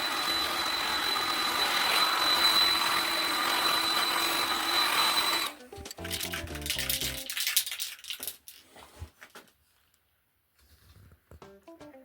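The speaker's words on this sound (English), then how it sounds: "I'm going to put a heat gun on it and give it a heavy coat." A heat gun dries fresh paint on a classic car's manifold with a loud, steady blowing roar for several seconds, then cuts off, leaving scattered light clinks and handling noises.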